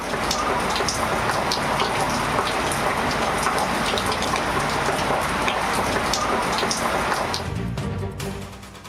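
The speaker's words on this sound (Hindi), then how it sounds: "पंजाब के मुख्तलिफ शहरों में वक्फे से मूसलाधार बारिश।" Heavy monsoon rain pours down in Punjab, a dense, loud, unbroken roar of water hitting surfaces, close and constant for several seconds before it briefly thins out at the end.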